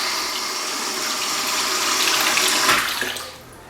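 Water running from a bathroom tap, a steady rushing hiss that swells slightly, then cuts off near the end, heard without any talking.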